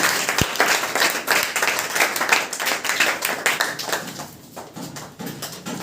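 An audience claps throughout at a school award ceremony for Class 10 toppers, a dense, fairly close burst of applause that loosens into scattered claps near the end.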